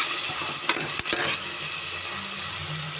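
A pot of lentil rice sautéing in hot oil, with a steady close sizzle and a few clinks and scrapes of stirring partway through, no talk.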